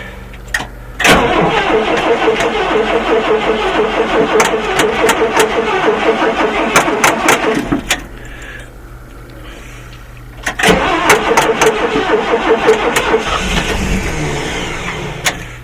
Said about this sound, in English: I haven't started it in months and months and months, so we'll see what happens.